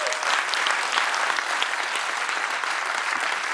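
Audience applause at the opening of the Empire cinema, a thick, steady roar of many hands clapping that holds at full strength throughout.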